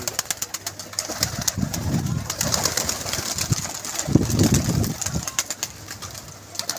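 Pigeons at a pigeon club coo in soft, repeated low bursts, with two fuller rounds of cooing, over steady outdoor background noise and occasional faint chatter.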